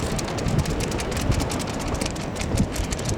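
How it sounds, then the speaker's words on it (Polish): Steady, loud outdoor wind on the Sopot pier in Poland roars and buffets the microphone continuously, with a constant rushing noise and no voices. "Widać po flagach, jak wiatr łomocze."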